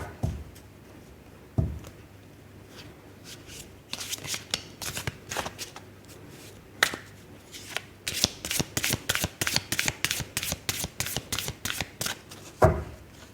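Fairy oracle cards being shuffled by hand, a near, dry riffling of card stock that comes in short bursts and then a quick run of crisp flicks, with no talking.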